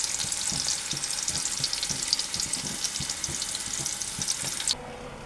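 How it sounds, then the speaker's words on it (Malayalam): Mustard seeds frying in hot oil for rava upma crackle and sizzle steadily up close, with dense popping ticks throughout before the sound drops off abruptly at the end. "നമ്മൾ റവ ഉപ്പുമാവിന് കടുക് വറക്കും"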